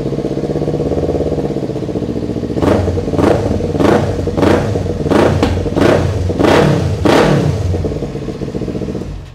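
A Kawasaki motorcycle with a Yoshimura exhaust idles with a steady burble, then its exhaust is blipped through about seven sharp revs in a row, loud and close.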